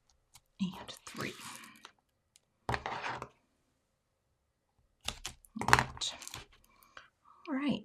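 Card stock is cut into pieces for handmade craft cards, heard as a few short, quiet scraping cuts separated by silent pauses.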